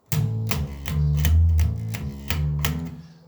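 Electric guitar riff with a busy fretting hand, a quick run of plucked notes and short chord stabs in a repeating rhythm, played alone and close.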